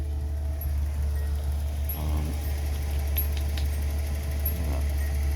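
A 1983 Datsun 280ZX 2+2 with a 2-inch exhaust sits idling, giving a steady low hum that continues through the whole stretch. A few faint clicks and jangles can be heard above the engine.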